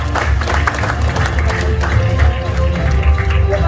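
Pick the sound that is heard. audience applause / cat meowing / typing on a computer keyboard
audience applause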